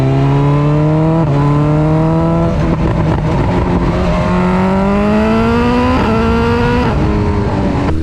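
A 2022 BMW S1000R with race exhaust headers, untuned, revs hard in Dynamic Pro mode, its engine note climbing in steps through gear changes, loud and close, with crackling exhaust pops breaking up the drone.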